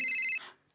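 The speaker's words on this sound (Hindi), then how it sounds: "फोन आ रहा है।" A phone ringtone chimes briefly, a short bright electronic ring cut off after under half a second, fairly faint and alone.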